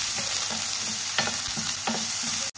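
Chopped onion frying in hot oil with mustard seeds, cumin, urad dal and broken dried red chillies, a steady close sizzle with repeated scraping stirs at a regular rhythm and a sharp clatter near the end, no talk.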